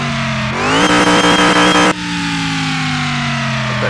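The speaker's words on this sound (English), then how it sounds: "That supercharger." A supercharged King Cobra Mustang engine in the Car Mechanic Simulator 2021 video game revs up sharply, holds a high whining rev for about a second and a half, then drops back to a steady idle, loud and close with no talk.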